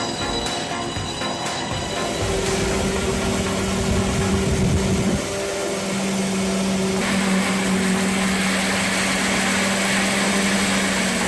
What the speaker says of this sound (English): The massive saw roars to life, its powerful engine and impressive horsepower shaking the sawmill.